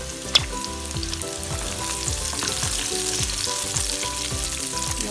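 Onion sautéing in a pan of hot oil for a tilapia and coconut milk dish, a loud continuous sizzle close by with repeated scraping stirs, no talk.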